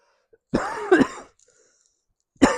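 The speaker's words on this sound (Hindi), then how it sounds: "खांसी बहुत हो रही है" A teacher gives a short rough cough and throat clearing during a chemistry lesson, then pauses briefly before another cough begins.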